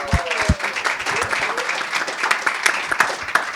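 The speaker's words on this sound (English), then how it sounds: "So let's give him a round of applause." Seated audience at a corporate leadership talk gives a round of applause for an award winner, brisk crowd clapping that starts with a few loud close claps and then settles into a steady ovation, with faint murmuring beneath.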